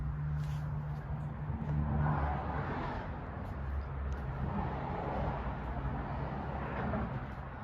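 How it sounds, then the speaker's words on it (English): Road traffic passing near a yard with low-voltage landscape lighting, a steady broadband rush of cars with a low engine rumble, moderately distant and continuous, with no talking. "Sorry for all the traffic noise"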